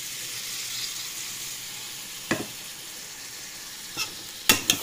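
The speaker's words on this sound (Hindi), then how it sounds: "चिकन अच्छी तरह से हो गया भुनाई" Chicken frying in a pot for chicken pulao, a continuous close sizzle with occasional sharp scrapes and clinks of a spoon against the metal, more frequent near the end.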